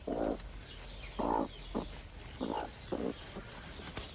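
Several short, soft clucks from a hen, spaced irregularly, close by against a faint background hiss.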